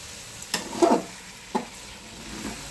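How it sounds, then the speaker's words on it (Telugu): A garlic and chili paste fries in oil for stuffed eggplant, with a low sizzle broken by a few sharp stirring scrapes and knocks against the pan. "ఇది బాగా ఫ్రై అవ్వాలి ఆయిల్లో"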